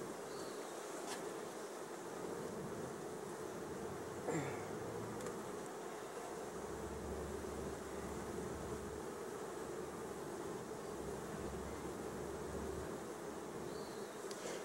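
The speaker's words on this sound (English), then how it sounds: "Good bees." Honey bees hum around an opened hive, a steady, close swarm drone continuing quietly throughout, with a few faint knocks and no talk.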